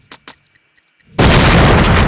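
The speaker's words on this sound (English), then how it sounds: "I find the best thing to do here is just use a grenade" A grenade goes off in the Indiana Jones and the Infernal Machine video game: a few small clicks and taps, then one sudden loud blast that holds as a dense, roaring rumble until the end.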